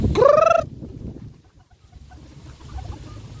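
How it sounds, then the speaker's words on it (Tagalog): A rooster crows once up close in a loud burst with a rising harmonic call, followed by quiet farmyard murmur and faint scattered clucks from fighting cocks and native chickens. "merong mga manok panabong, may native chicken, merong 45 days"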